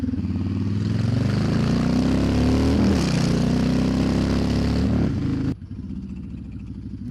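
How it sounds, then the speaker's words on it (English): A motorcycle engine revs loudly and steadily for about five seconds, a sustained roaring rev bomb that cuts off abruptly, leaving a quieter idle behind. "I can just sit there and rev bomb"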